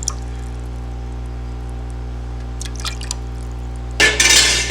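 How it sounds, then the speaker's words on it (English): Stock poured into thickened, cooled velouté sauce in an aluminum pan, quiet at first with a few faint drips, then a short, loud splashing pour at the end. "I add a little more stock to the velouté because it's thickened up and got cold."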